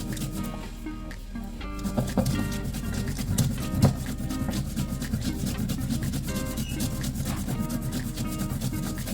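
Poppy seeds, mustard seeds and green chilli ground into a wet paste with a little water and salt, giving a steady close rubbing, scraping grind that runs continuously with small rhythmic surges and no speech.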